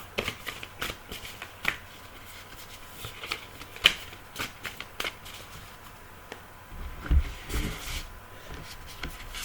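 Tarot cards being shuffled close up, heard as a quiet, irregular run of soft riffling and slapping card sounds with small taps. There is a slightly louder flurry toward the end.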